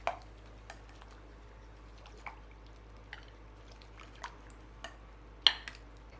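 A spoon stirring chicken broth in a pan gives soft, wet squishes and light taps at a slow, fairly even pace. The sounds are faint and close against a quiet kitchen background.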